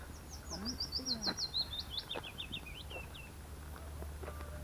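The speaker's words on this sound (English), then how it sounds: "I don't know what these birds are." Wild birds sing along a quiet path, with a run of rapid high chirping trills and quick repeated notes, moderately near, over a soft outdoor background with faint low sounds.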